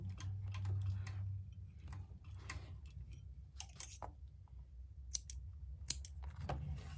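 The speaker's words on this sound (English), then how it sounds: "I'm going to trim them down like that, about a 1/4 inch." Scissors trimming leather edges for a beaver tail wallet, making a series of crisp, close snips and clicks spaced irregularly over a low hum, with no talk.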